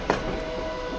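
A train rolls past in the simulation game Transport Fever 2, a steady rumbling rail drone with a faint thin whine and a soft clack at the start, moderately loud and unbroken.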